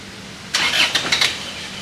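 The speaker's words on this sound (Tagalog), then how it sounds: "Kotse na talaga yung start." A car engine cranks over in a few rough, quick bursts lasting under a second, close by, with quiet before and after and no talking.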